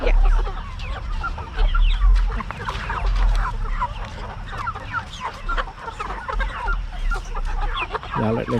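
Meat chickens on a family farm cluck steadily and close by, many birds overlapping in a busy flock chorus with low ambient rumble.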